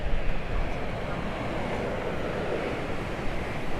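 Steady broadband wash of surf rolling onto a beach at Paphos, Cyprus, with wind buffeting the microphone throughout; no distinct voices.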